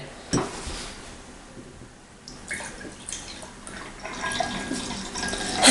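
Edible glue, thin from being heated in an oven, pours into a container. Scattered clinks and splashes build into a wet, running pour that grows louder toward the end.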